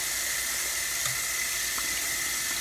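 Tap water runs steadily into a sink over cooked cheap ramen noodles, rinsing off leftover seasoning powder; a continuous close hiss of flowing water with no talk.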